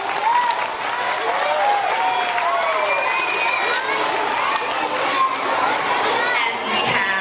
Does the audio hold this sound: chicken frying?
no